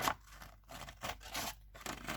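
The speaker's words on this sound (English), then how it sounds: "cut out the treasure map" Scissors cut out a paper treasure map, making quiet, close snips and scrapes in an uneven rhythm of about five short cuts, with no talking.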